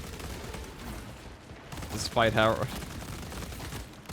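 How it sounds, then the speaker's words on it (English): Automatic weapons fire from the hip in a video game, rendered as a steady, loud, crackling stream of rapid shots, with someone briefly speaking over it midway. "I know it's kind of goofy to be shooting hip fire the entire time"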